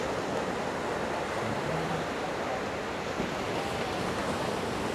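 Sea waves break steadily on the shore at Cala Major, Mallorca. The wash is a faint, continuous rush with little surge, tinged with wind noise, and no voices.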